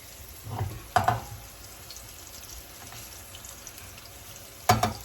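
Cajun chicken pieces fry in a pan with a steady close sizzle; louder crackling bursts flare up twice as more pieces go in. No one speaks.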